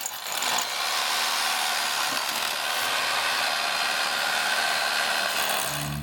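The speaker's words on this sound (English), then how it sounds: "Is it worth sending the small drill bit now through a couple of times?" Power drill with a small bit boring through a wall in an old rectory under renovation, a steady loud grinding whine that holds constant for several seconds after a brief start.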